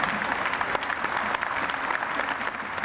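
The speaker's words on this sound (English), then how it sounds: "I hope you'll join me in a warm round of applause for Mr." Warm applause from a county fair crowd honoring a World War II veteran at the Miami County Fair, steady dense clapping filling the whole stretch, fairly close and continuous.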